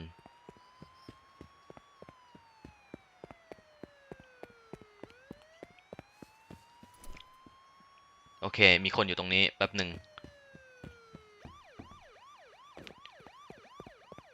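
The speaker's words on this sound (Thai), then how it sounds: "เสียงรถตำรวจ" A police siren in the video game Miscreated wails in slow rising and falling sweeps, then switches to a faster yelping pattern, with someone talking over it and a loud burst partway through.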